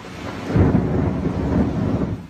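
Thunder rumbles during a lightning storm in Brazil, a loud, rolling boom swelling and fading over a steady wash of rain.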